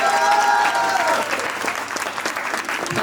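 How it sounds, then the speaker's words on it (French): Crowd applause in a hall following a student's blues performance at a university talent contest, loud and dense clapping throughout with a lingering musical tone fading in the opening second. "On peut l'applaudir encore une fois, s'il vous plaît"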